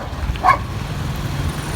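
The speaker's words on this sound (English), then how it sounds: "So there's a truck carrying dogs" Dogs riding in a dog-carrier truck on a busy road heading into Nairobi, Kenya, give one short, sharp bark over a steady rumble of passing traffic.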